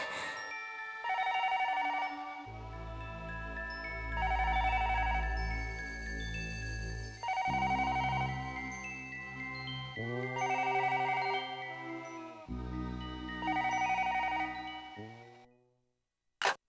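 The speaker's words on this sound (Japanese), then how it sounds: "たかが電話だ。" Telephone in a Japanese detective video game rings with a repeated electronic melodic tone, several bursts in a row with brief gaps, clear and steady before falling silent.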